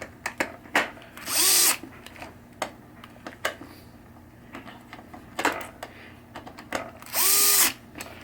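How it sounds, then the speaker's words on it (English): Electric screwdriver driving screws into the ball trough of a 1976 Williams Grand Prix pinball machine, with two short whirring bursts between many sharp clicks and knocks of handling nearby. "Notice again, electric screwdriver, but watch it twist"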